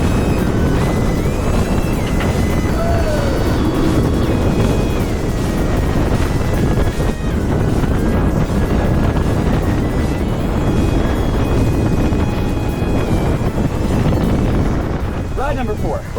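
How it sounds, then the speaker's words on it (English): A roller coaster ride on ArieForce One at Fun Spot Atlanta, filled with constant loud wind rush and rumbling track roar throughout, with shouting riders mixed in. "All right, ride number 4 is about to commence now."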